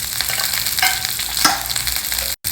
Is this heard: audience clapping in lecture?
no